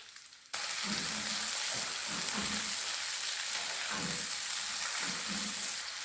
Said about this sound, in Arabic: وهنا بعد ما تشوحوا معايا كويس هنزل بالبسله والجزر